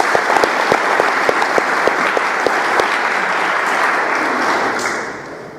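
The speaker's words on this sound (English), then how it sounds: "How about a round of applause for" A conference audience at a digital forensics talk gives a round of applause, steady and full for several seconds before tapering off at the end.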